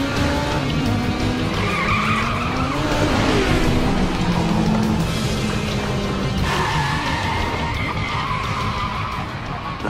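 A race car skids and squeals at speed, with engine tones sweeping up and down beneath loud continuous tire noise, close and sustained throughout.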